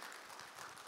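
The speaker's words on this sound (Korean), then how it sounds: "우리 큰 박수로 우리 목사님들 올라오실 때 큰 박수로 환영할까요?" A church congregation claps together in a brief, faint burst of dense applause.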